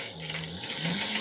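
A home sewing machine runs a steady line of top stitching on a key fob wallet, a continuous close motor whir with a rapid needle rhythm that rises slightly near the end, with no talking.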